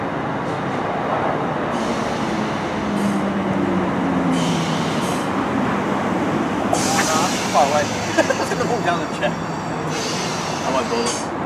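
A Thameslink train formed of two class 319 units pulls into Mill Hill Broadway station on the Midland Main Line, a steady mid-distance rumble with squeaks and clanks near the end as it slows, with faint voices on the platform.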